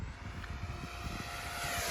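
A Freewing F-4 Phantom 90mm electric ducted-fan RC jet makes a speed pass, its steady whooshing roar fairly quiet and distant, rising gently in loudness toward the end.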